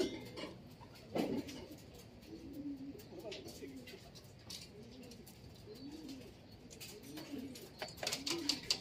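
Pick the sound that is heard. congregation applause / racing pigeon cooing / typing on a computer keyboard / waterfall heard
racing pigeon cooing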